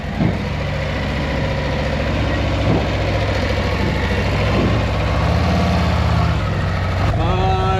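Harley-Davidson motorcycle V-twin riding up a ramp onto a scale, a loud continuous rumbling idle with slight throttle swells, close by and steady throughout.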